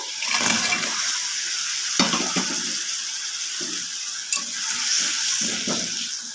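Bitter gourd pieces fry in a pan with a little water for a gravy, giving a continuous close sizzle broken by repeated scraping and clinking as a spoon stirs them.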